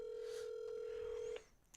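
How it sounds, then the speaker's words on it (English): Outgoing telephone call ringing during a podcast, heard as a single steady ring tone held for over a second and then cut off, fairly faint with a quiet room behind it and no talking. "The phone is ringing."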